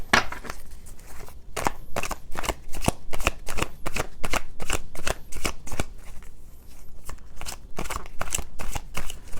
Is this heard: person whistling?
no